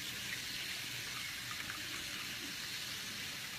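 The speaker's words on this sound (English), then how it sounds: "you can hear the water running, I'm thawing out a frozen snail" Water runs steadily from a tap to thaw a frozen apple snail, producing an even, hissing stream at moderate level, constant with no breaks or other sounds.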